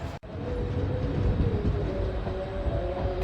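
The Balurghat Express departs Nabadwip Dham, rumbling steadily and close by, its low mechanical drone building after a brief cut at the start.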